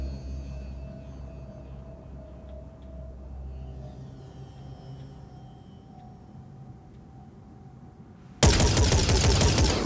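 Sniper and turret gunfire in the Phoenix Point strategy video game: after a quiet stretch of low ambient hum, a sudden loud, dense burst of fire erupts near the end and keeps going.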